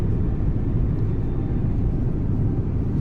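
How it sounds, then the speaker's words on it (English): E-Jet engines from a flight simulator sound pack give a steady, loud, low rumbling drone with a soft airy whine on top, constant for the whole stretch with no voices. "the sound pack tonight on the E-Jet is a very early rendition. It's only engine sounds for right now."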